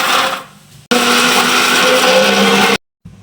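A loud electric grinder whirs through fennel, dried red chillies and spices: a short burst, a brief pause, then a longer continuous run of nearly two seconds that cuts off abruptly.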